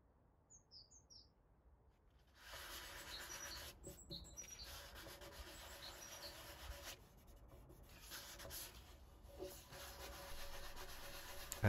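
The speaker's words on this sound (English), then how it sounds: "And here I'm sanding the wood filler that has dried." Dried wood filler being sanded by hand on a mid-century modern compass table during furniture restoration, a steady scratchy rubbing that starts after a quiet opening and continues in close, back-and-forth strokes with brief pauses.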